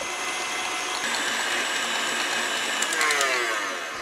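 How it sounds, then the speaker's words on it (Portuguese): An electric stand mixer beats 450 grams of cream cheese alone for a cheesecake filling, a loud steady whirring motor drone with a rattling mechanical edge throughout, no talk. "Nessa primeira etapa, ele vai sozinho para a batedeira,"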